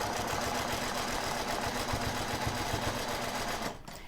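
Sewing machine stitching straight lines on a quilt, a steady, close, whirring rattle at a fast even pace that runs continuously and stops abruptly near the end.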